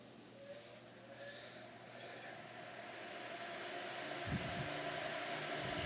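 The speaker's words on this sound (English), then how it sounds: "I'm going to turn my air conditioner back on." An air conditioner runs in the cabin of a Com Pac 23 sailboat, a steady mechanical hum and fan whir that holds throughout, close by and gradually growing a little louder, with a few brief knocks near the end.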